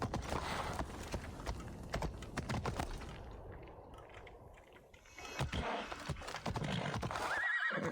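In Assassin's Creed Odyssey a horse trots with clip-clopping hooves and gives a loud neigh midway, mixed with computer keyboard tapping, and the sounds are fairly close.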